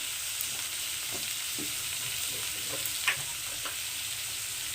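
Eggplant pieces fry in oil with turmeric, giving a steady close sizzle broken by occasional soft stirring scrapes and one slightly louder clink.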